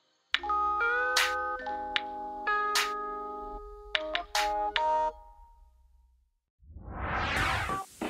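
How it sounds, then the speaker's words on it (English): A preloaded ringtone on a BALMUDA smartphone plays a bright, chiming melody of bell-like tones over a soft low hum, with sparkling accents, then falls silent before a brief whooshing swell at the end. "Even the preloaded ringtones fit right in with the phone's chill,"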